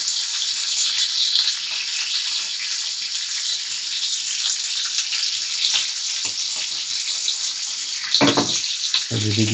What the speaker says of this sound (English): You see now the guanciale, all the fats are beginning to melt away.